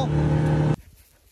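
A buggy being driven gives a loud, steady engine drone that cuts off abruptly partway through, leaving faint low rumbles and quiet background noise.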